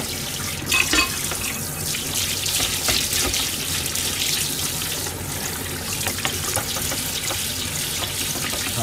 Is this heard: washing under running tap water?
yes